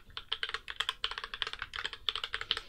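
Quick, uneven keystrokes patter on a computer keyboard at close range, a short burst of typing with no voice.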